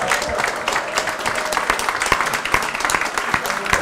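Audience applause at a stage anniversary celebration: sustained, dense clapping from a sizeable crowd, loud and steady throughout.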